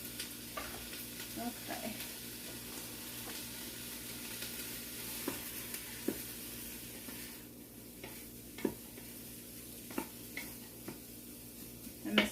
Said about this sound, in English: I'm going to go ahead and just drop in my ground beef so it gets all mixed up together.